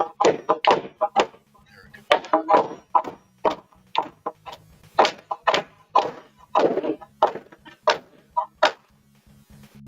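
A hammer strikes a nail into wood in a series of close, sharp thwacks, about a dozen irregularly spaced blows with brief gaps between them.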